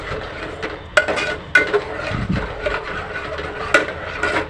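A spoon scrapes and clinks against a pan while roasted spice paste is stirred into cooked dal for a Ganesh Chaturthi naivedya thali, sharp metallic taps at irregular intervals over soft rubbing, no voices.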